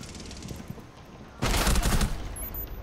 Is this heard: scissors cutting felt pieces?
no